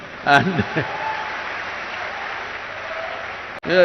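A brief voice, then steady applause from a crowd that fills most of the clip at an even level before cutting off abruptly.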